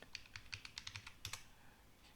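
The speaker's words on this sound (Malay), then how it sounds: "kita kena guna keyboard" A password being typed on a computer keyboard: about a dozen quick, crisp key clicks in an uneven rhythm, close and fairly quiet, with no talking.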